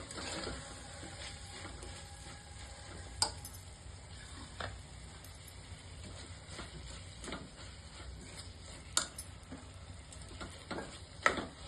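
Mixed vegetables with drumstick pods sautéing in a pan for vegetable khichdi, a low, even sizzle with occasional sharp clinks of a stirring spoon against the pan, quiet and without talk.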